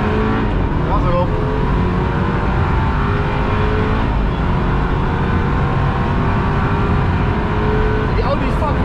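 A loud BMW 328i F30 engine roars and revs close by on the Nürburgring Nordschleife, holding a strong, continuous drone throughout with no pauses.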